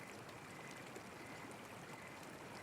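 A small babbling brook flows in a soft, continuous trickle, faint and even from start to finish with no voices over it.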